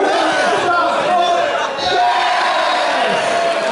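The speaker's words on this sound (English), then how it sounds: "Big cheer from the crowd there." Crowd cheering and whooping at a Bristol Bot Builders beetleweight robot combat event, Beetle Brawl. The cheer is loud and sustained across the whole stretch, with chatter and shouts mixed in.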